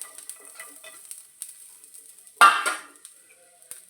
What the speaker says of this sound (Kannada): ಬೆಳ್ಳುಳ್ಳಿಯನ್ನು ಹಾಕ್ತೇನೆ.